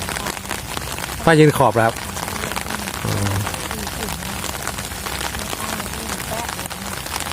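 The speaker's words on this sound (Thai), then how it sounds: "ตอนนี้ฝนตกแล้วฝนตกลินพายุมาแล้วพายุมาถึงแล้ว" Storm rain falls steadily outdoors at a riverside lift-net fishing spot, a constant dense hiss throughout, while a voice speaks briefly over it twice.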